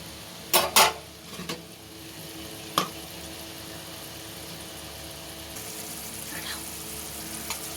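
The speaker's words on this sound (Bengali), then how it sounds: "এবার খুব ভালোভাবে কষিয়ে নেব।" Spice paste for a vegetarian pointed gourd dish is sautéed in a pan, a quiet continuous sizzle broken by a few sharp spoon-against-pan knocks early on, then mostly steady low frying.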